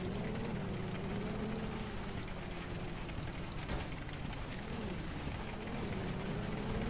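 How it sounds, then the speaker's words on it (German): Hail falls during a storm chase, a dense, constant roaring patter that drums on a vehicle from close by without any letup. "der scheiß Hagel dabei, der nimmt uns immer die Sicht"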